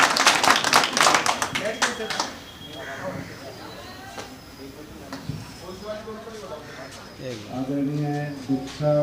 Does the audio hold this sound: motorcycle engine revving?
no